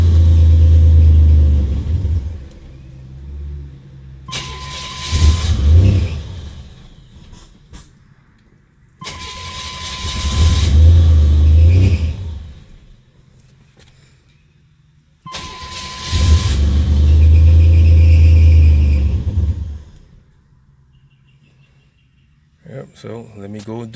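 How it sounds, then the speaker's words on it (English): A Buick Grand National engine with wet belts is started up three times in succession, each run a loud, close rumble with a high squeal riding on it before cutting off into near silence. "Those belts are hollering because they're wet."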